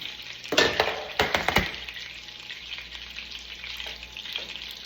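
Pork cutlets frying in oil and butter in a pan give off a steady, close sizzle, with a few sharp louder crackles near the start that settle into an even hiss.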